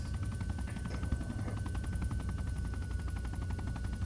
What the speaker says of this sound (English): I'm flying helicopters.